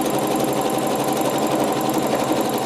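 A sewing machine runs loud and close, stitching over wool with a dense, unbroken mechanical whir and needle rattle that holds steady from start to end.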